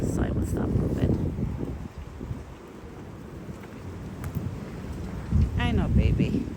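Strong evening wind blows outdoors, rumbling and buffeting across the microphone in gusts, with someone talking over it at times.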